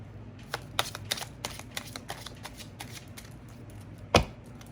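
Tarot cards riffle and flutter in quick bursts, a soft papery shuffling repeated several times, ending with a sharper snap of the tarot deck close by.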